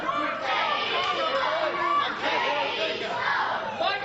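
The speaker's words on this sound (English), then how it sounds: "And the crowd here firmly behind Danny Maff." A wrestling crowd cheering and shouting in support of a wrestler, steady, loud and dense for the whole stretch, with voices rising and falling together.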